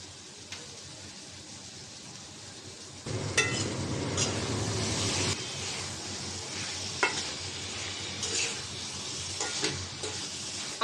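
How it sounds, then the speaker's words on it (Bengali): Potatoes and spices sizzle and sauté in a pan for a Bengali curry with tomato and nola fish. A steady low frying hiss runs throughout, growing louder after a few seconds with occasional stirring scrapes and clinks. "আলু মশলা কষানো হয়েছে"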